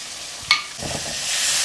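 Tomato, black pepper and garlic drop into hot oil with a sharp clatter, then a loud bright sizzle builds and hisses steadily, with some stirring.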